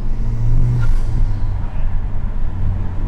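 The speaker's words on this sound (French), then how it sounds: "on entend bien le turbo" A turbocharged Honda Civic Type R engine with an aftermarket air filter rumbles and revs up close, a deep drone with a brief rising turbo whir as it accelerates, then settling back.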